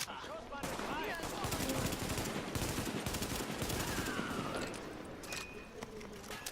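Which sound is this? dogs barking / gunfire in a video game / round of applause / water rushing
gunfire in a video game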